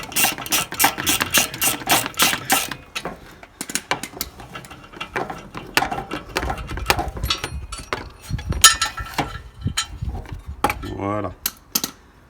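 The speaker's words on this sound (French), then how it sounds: "je vais défaire cette vis et après on pourra déposer le catalyseur" A screw being undone on the catalytic converter of a Peugeot 107, Citroën C1 or Toyota Aygo, with rapid ratchet clicking in repeated bursts, metallic tool clatter and handling noises, and a brief voice.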